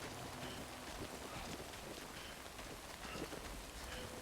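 Rain falls in the game Death Stranding, a soft continuous hiss of drops on surfaces. It is faint and steady, with scattered footsteps underneath.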